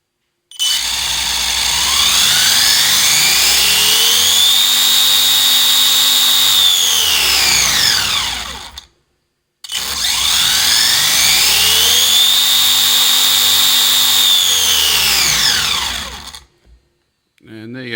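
A brushless motor on an upgraded 1/18 WLtoys A959 RC buggy spins up twice in succession, each time rising to a loud, close, high-pitched whine that holds for several seconds and then winds down, with a short pause between runs.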